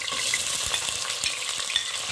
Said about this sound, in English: I will let all this fry together.